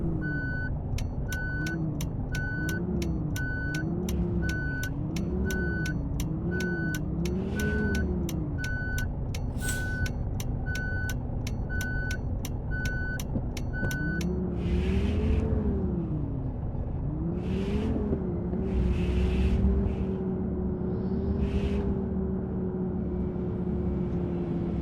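In a bus simulator game, a bus engine drones and revs up and down while regular reversing beeps pulse for about fourteen seconds, then the engine revs again with a few hissing air-brake bursts.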